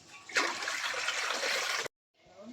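Water splashing and pouring steadily into a bowl of Ugadi pachadi ingredients for about a second and a half, close up, then cutting off abruptly.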